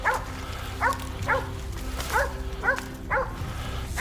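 Hunting dogs bark and yelp while flushing a wild boar out of bushes, six sharp calls spaced about half a second apart, outdoors against a low rumbling background.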